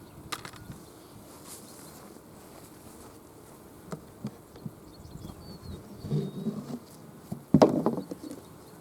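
Bees buzz around an opened beehive as a keeper works the colony, a faint steady hum with occasional nearer insects passing, swelling louder in brief bursts toward the end.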